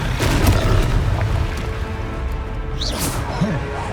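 A Confringo fire spell from the Hogwarts Legacy video game goes off in a loud booming blast at the start, then a fading rumble and scattered whooshing game effects.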